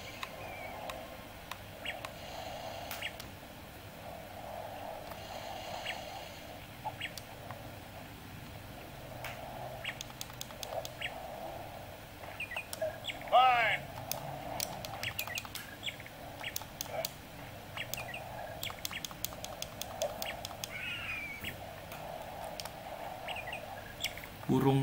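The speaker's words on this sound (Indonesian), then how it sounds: "Burung laknat, burung laknat." Birds squawk and chirp in the Up video game, scattered calls and tweets over a quiet game backdrop, with a person talking at times.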